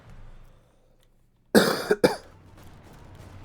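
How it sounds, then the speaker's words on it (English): A single loud, close cough in two sharp bursts, breaking a quiet stretch, followed by faint background hum. "I'm sorry about the cough"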